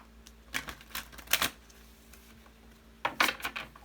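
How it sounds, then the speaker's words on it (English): Crisp bursts of tarot cards riffling and slapping together in a few quick flurries, with quiet pauses between, close by. "Get one more good shuffle here."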